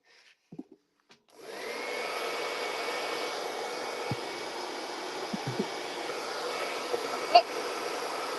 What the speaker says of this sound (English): It's a very loud hairdryer.